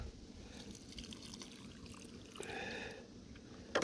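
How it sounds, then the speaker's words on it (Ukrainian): About a litre of liquid biopreparation is poured onto a grapevine, making a faint, close trickling and splashing with a brief brighter spatter near the end. "виливаю десь близько літра препарата"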